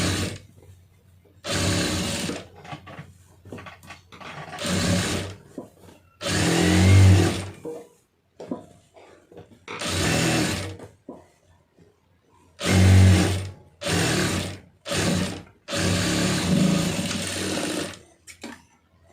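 A sewing machine stitching a plain cotton blouse, running in short bursts of whirring needle strokes separated by brief pauses, close and clear, about ten runs of varying length.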